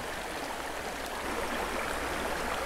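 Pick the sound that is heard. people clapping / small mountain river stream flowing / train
small mountain river stream flowing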